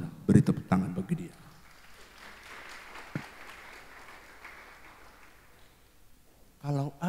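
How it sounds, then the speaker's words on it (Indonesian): A church congregation gives a brief round of applause, moderately loud, that quickly fades into a long quiet stretch of faint room murmur, with spoken voices at the start and end. "Beri tepuk tangan bagi dia."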